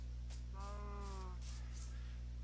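A Minecraft sheep bleats once, a clear wavering baa lasting under a second, close and moderately loud over a steady low hum and some faint background noise.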